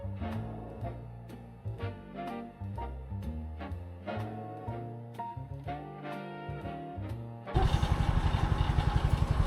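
Rhythmic music plays at first, then a nearby motorcycle cuts in abruptly, its engine pulsing loud and steady with fast, even beats as it rides along a road in Dibut, Aurora.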